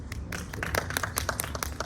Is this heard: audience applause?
yes